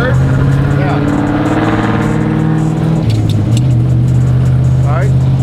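A sequential-transmission burnout truck's engine revs loudly and close, its droning pitch holding and then dropping sharply at a gear change before settling again.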